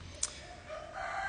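Roosters crow from a Balinese villa next door, a brief moderately distant call with a sharp note early and a rising crow at the end, no talk over it.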